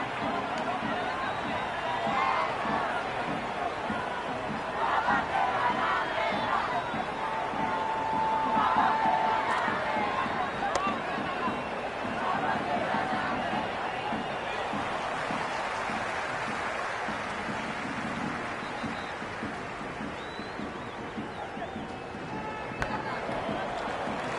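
Stadium crowd in the cricket video game Cricket 26 during an India vs Pakistan T20 match, a dense, continuous roar of cheering that swells and eases, with a commentator's voice talking over it.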